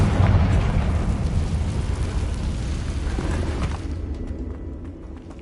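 A Confringo blasting spell explosion in Hogwarts Legacy: a loud, sustained rumbling roar that slowly fades over several seconds, with crackling debris and no talking.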